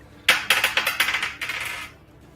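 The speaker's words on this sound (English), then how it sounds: "And A lot of dice, Zenith" Dice for a tabletop role-playing game clatter onto a hard surface in a burst of about a dozen rapid, bright rattling impacts, then a second shorter tumble, close and loud with no talking.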